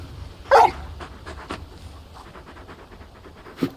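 A large dog, Torgal from the video game Final Fantasy XVI, pants and whimpers close by, with one sharper vocal burst early and soft breathy sounds continuing after it.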